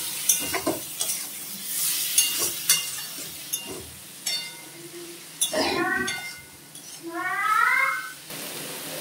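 Soybean chunks and potato sauté in a pan with homemade cumin powder, giving intermittent sizzles and scraping stirs up close, with a cat meowing twice near the end and some speech around.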